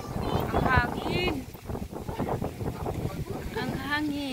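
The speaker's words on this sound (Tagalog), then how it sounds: "Ang hangin." Wind gusts buffet the microphone at the Tagaytay viewpoint, a rough low rush under people talking close by throughout.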